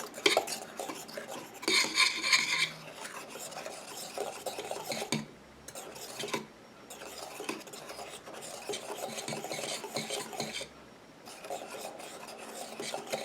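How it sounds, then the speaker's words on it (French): The oil phase of a homemade foot cream is stirred in a container, a close scraping and rubbing that comes in rhythmic bursts with short pauses, fairly quiet and with no voices. "Et je viens mélanger ma phase huileuse."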